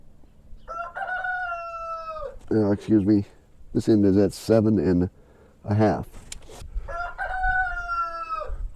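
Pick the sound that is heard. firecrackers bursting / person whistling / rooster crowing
rooster crowing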